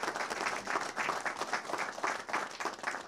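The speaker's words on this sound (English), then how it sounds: "Let's give them a great round of applause for helping in this effort." Clapping from the audience at a governor's announcement event for a river restoration project, a brief, fairly faint burst of steady applause.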